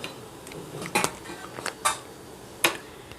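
Ice cubes dropped into a chilled sago sharbat, several bright clinks and clatters against the container at irregular moments, close and fairly sharp over a quiet background.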